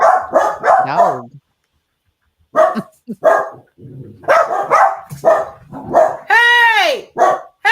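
Dog barking in a room during a podcast recording, several short sharp barks mixed in with close conversational talk, people speaking around and over them.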